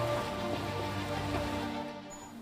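The first monsoon rain falls in Gujarat as a steady, soft patter and hiss, heard faintly and evenly throughout.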